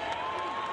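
Basketball crowd at a college game cheering and applauding, a brief, dense wash of clapping and voices, moderately faint and distant.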